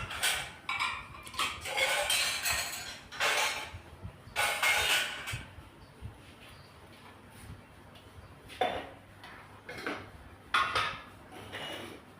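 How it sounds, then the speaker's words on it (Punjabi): Dishes clatter and clink in intermittent bursts as they are set down and stacked on a shelf nearby in a village home, with quiet pauses between. "ਕੰਸ ਤੇ ਭਾਂਡੇ ਲੋਡ ਕਰੇ ਠੀਕ ਰਹਿੰਦੇ ਆ"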